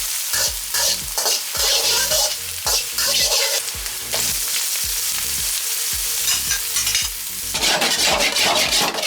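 Rice for Mauritian-style Chinese prawn fried rice is stir-fried in a hot pan, with a loud continuous sizzle broken by rapid, rhythmic scraping strokes of the spatula.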